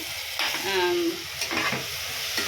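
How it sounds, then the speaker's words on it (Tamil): Tomatoes cooking under a lid in a pot for pav bhaji, giving a soft steady sizzle with brief stirring scrapes and clatters, fairly close and moderately quiet, no talk. "ஒரு 2 மினிட்ஸ் சும்மா மூடி போட்டு நான் தக்காளியை வேக விட்டுருக்குறேன்."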